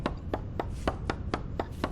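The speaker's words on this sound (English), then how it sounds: "Now we can chop down the tree." Axe chops at a tree in the survival game Vintage Story, eight sharp, evenly spaced wooden thwacks in a steady rhythm, close and clear over a low ambient background.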